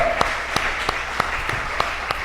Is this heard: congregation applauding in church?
yes